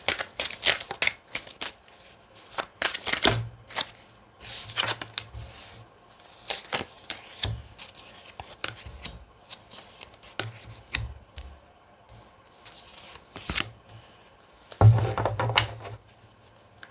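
Tarot cards are shuffled and handled close to the microphone. Soft riffles and card slaps come in irregular bursts, with quiet gaps and a few louder thumps between them.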